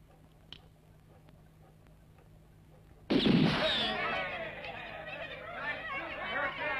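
A single sharp volley from a firing squad in a western film, one loud blast with crackling echo trailing off, after a quiet stretch.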